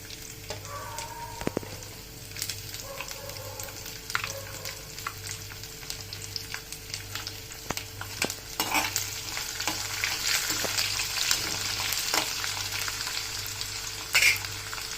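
Curry leaves and garlic sizzle and crackle in hot oil for murmura chivda, a steady close frying hiss with occasional stirring scrapes and pops throughout.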